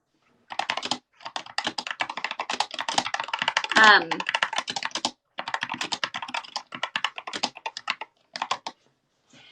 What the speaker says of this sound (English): your keyboard, it's like click, click, click, click, click, click, click. It's very clicky.